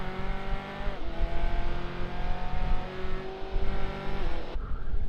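Stock car engines roar continuously in iRacing at Phoenix, revving hard with pitch shifts as cars work through hairpins and back onto the oval, loud and close throughout with a drop in pitch near the end.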